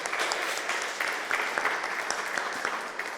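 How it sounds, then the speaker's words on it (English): Audience applause at a fashion event, a steady, dense wash of many hands clapping close by, holding at an even level for the whole stretch with no voices over it. "Can we have a round of applause"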